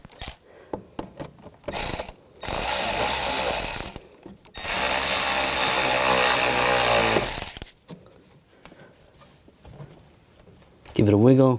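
A power tool runs in two loud sustained bursts, each a couple of seconds long, tightening the air intake hose clamp on a 2012-2015 Honda Civic, with quieter handling noises between them.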